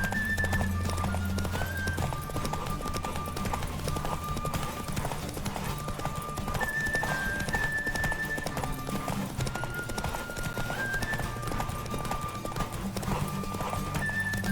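Rhythmic hoofbeats of a horse galloping flat out in a race in The Witcher 3, steady and close throughout, with a brief whinny and a driving music bed underneath.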